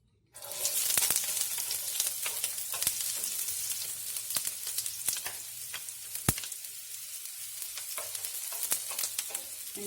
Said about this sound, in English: And just saute the onions